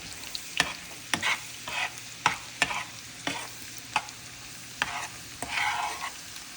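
Chopped onion and garlic sizzle in a hot pan while a utensil stirs them, with a steady frying hiss under sharp scrapes and knocks that come about once a second, close and clear with no talking.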